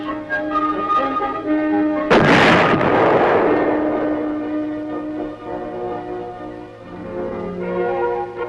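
A tank gun fires a projectile on a test range at Aberdeen, one loud heavy blast that rolls out into a long fading rumble, heard over a steady low mechanical hum.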